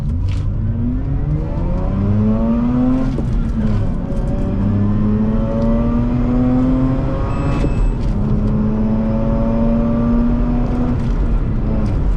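2005 Mazda RX8 with its rotary engine revved hard through the gears on a test run, heard from inside the car: loud, sustained rising engine whine that drops briefly at each gear change, then climbs again, with no talking.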